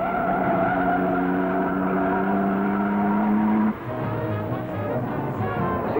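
Sports racing cars at the Monza circuit, including 1100 sports cars, hold a steady, loud engine drone that shifts in pitch partway through as the cars pass.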